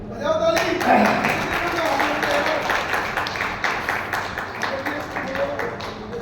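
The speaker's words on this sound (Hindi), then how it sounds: "बजाओ ताली।" Audience hand clapping in a seminar hall, a dense patter of many hands running steadily throughout, fairly loud and close, with scattered voices mixed in.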